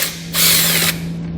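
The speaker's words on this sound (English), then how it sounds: "we're going to grab a 10mm socket and we're going to pull all those fasteners out" A ratcheting tool spins a 10mm socket on a fastener under a 2018 Chevrolet, giving one brief, close burst of buzzing clicks over a steady hum.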